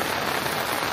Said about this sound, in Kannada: ಸೊ ಇವತ್ತು ಹೆವಿ ಮಳೆ ಇದೆ